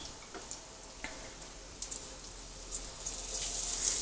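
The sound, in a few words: sausages frying in bacon fat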